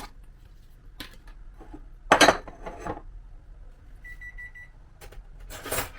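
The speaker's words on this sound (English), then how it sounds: "That beep is to let me know my grits are done." A short electronic beep from a rice cooker sounds once amid clinks of dishes and utensils in a kitchen, with brief clattering bursts before and after.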